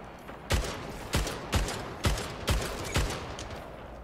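Battle rifle fire from the Halo Infinite multiplayer shooter, six evenly spaced sharp shots or bursts at about half-second intervals, loud and clear over a steady game background with no talk.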